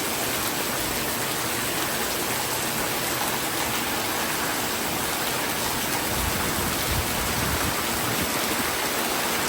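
Heavy rain pours down in a dense, constant roar that stays loud and unbroken throughout, with no talking.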